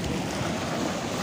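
Sea waves surge and wash against the shore near Haji Ali Dargah in Mumbai, a dense continuous roar of water mixed with wind buffeting the microphone.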